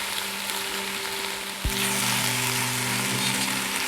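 Capsicum drops into a frying pan with garlic and chicken. A sharp thump marks the toss, then a steady close sizzle that grows a little louder and keeps going without talk.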